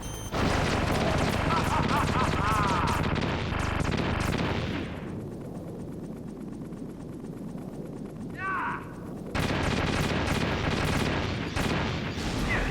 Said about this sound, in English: So he shoots another missile